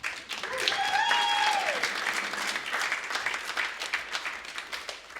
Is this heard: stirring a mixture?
no